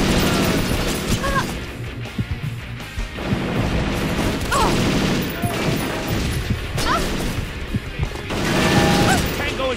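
Enemy gunfire on a bridge stage in the video game Perfect Dark Zero, with repeated shots and crashes over a dense, loud battle din that continues throughout.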